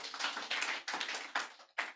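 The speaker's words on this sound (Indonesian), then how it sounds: "Tepuk tangan bagi Yesus." A church congregation claps in uneven bursts at an evangelistic service, a faint group clatter rising and falling with short pauses between rounds.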